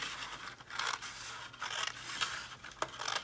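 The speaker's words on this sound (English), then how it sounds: "I find that it's easy to just grab my scissors." Scissors cutting paper during a card-making craft, a rapid series of crisp snips and rustling scrapes, close and fairly quiet with no talk.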